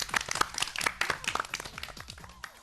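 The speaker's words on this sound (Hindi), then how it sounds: "तो एक बार टीम डी के लिए जोरदार तालियां।" Children clapping for a quiz team at a kids' programme, a scattered patter of individual hand claps, close and fairly light, thinning out toward the end with no talk over it.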